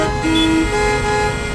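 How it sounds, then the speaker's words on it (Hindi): Car horns blare in a traffic jam, overlapping steady tones sounding loud and close over a low rumble of engines, with one pitched toot cutting in briefly. "चारों तरफ हॉर्न का बजना, गाड़ियों के इंजन का शोर और धुआं"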